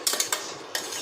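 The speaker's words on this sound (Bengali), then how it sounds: "বড়ি ভাজাগুলো দিয়ে দেবো, যে বড়িগুলো ভেজে রেখেছিলাম, দিয়ে এগুলো একটু ঘেঁটে দিয়ে" A metal spoon stirs bottle gourd greens and stalks with fried lentil dumplings in a pot, giving a few quick, close clinks and scrapes in under a second.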